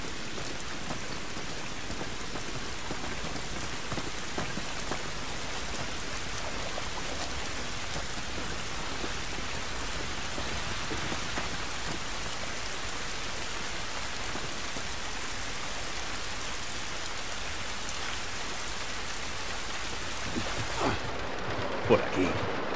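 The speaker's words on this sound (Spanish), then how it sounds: "Esta lluvia no nos va a ayudar." Steady rain falls in a gritty outdoor scene of the video game The Last of Us, a dense continuous hiss that holds for the whole stretch under some talk before easing slightly at the very end.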